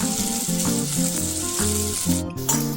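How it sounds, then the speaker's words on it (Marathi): Onions being sautéed until translucent and lightly browned sizzle in a pan, a steady frying hiss running beneath a louder tonal music track. "कांदा चांगला परतून घ्यायचा आहे, ट्रान्सलुसेंट होऊन द्यायचा आहे आणि थोडेसे डाग पडेपर्यंत परतायचा आहे"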